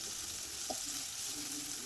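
Sliced onion frying in a pan for a jackfruit bulb thoran, giving a steady, soft sizzle close by with a brief stir partway through, and no talking.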